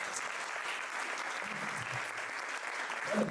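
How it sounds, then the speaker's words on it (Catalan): Steady applause from an audience at an anniversary celebration gathering, sustained clapping at moderate distance that continues without pause, with a faint murmur of the crowd underneath. "Un aplaudiment."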